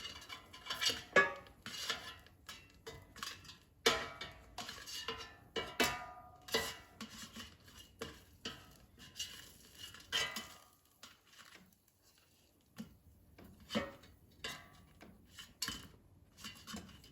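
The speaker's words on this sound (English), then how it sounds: "let's take out the air fryer basket and let's flip ravioli over so they cook evenly" A metal air fryer basket is pulled out and frozen ravioli are flipped, giving a run of scattered clinks, taps and scrapes of utensils on metal close by, with a brief quiet gap midway.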